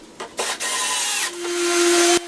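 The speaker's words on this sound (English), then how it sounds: "And I also drilled some smaller holes for screwing into the plywood." A drill whirs in short bursts, the motor revving up and then biting steadily into plywood, winding to a higher pitch before stopping abruptly.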